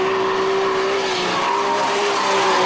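Drift car tires squeal loudly and continuously on a Formula Drift track, a sustained high screech with engine roar beneath, close and unbroken from start to finish.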